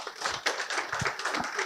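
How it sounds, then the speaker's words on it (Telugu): An audience at an insurance seminar claps in a dense, continuous patter of close hand claps, fairly loud and steady throughout, with no talking. "గట్టిగా చప్పట్లు కొట్టండి ఫ్రెండ్స్"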